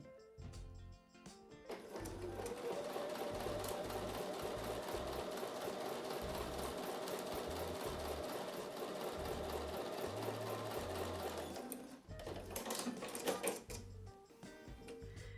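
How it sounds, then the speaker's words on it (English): A sewing machine stitches quilt pieces together with a quarter-inch seam, whirring steadily for about ten seconds before breaking into a few short stop-start bursts, close and without talk. "So I'll take those over to the sewing machine and sew with a 1/4 inch seam"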